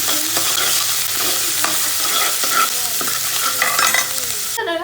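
Chopped onion frying in hot oil for a dhaba-style chana dal, stirred steadily with a spatula; continuous close sizzle with repeated scraping strokes against the pan, no talking.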